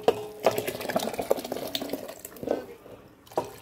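Rice poured into a pot of boiling water with lemon juice for chicken biryani, giving soft watery splashes and bubbling with a few sharper plops, close and moderately loud, without any talking.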